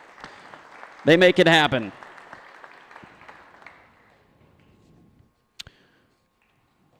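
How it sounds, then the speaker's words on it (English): Audience at a beef expo auctioneer contest breaks into a short burst of applause for the sponsors, loud for under a second, then fading under a voice at a public address. "Let's give a round of applause to all those sponsors once again."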